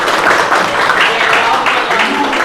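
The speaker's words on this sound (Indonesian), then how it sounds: "Tepuk tangan untuk kita semuanya." A class of students applauding their teacher in a classroom, a short, loud burst of many hands clapping fast and unevenly throughout.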